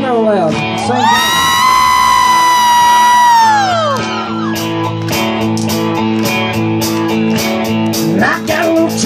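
A concert crowd at a country show screams and whoops loudly and continuously over sustained music, the roar of voices holding for the whole stretch.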